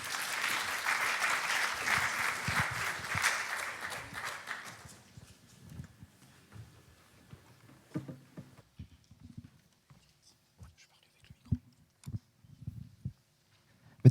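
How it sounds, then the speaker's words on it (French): Dense audience applause at a French conference on sea and health, steady and loud for about five seconds before fading out, leaving a quiet room with only scattered small knocks and shuffles. "On peut l'applaudir."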